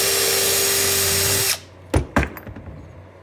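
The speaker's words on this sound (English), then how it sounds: "Just got to ream this just a little bit." A power drill whirs steadily at high speed while reaming a whammy bar part, then stops abruptly, followed by a couple of sharp knocks and faint rattles.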